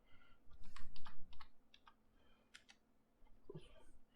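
Code being typed on a computer keyboard while writing Python: bursts of quick, close key clicks with brief pauses between them, with soft talk faint in the background.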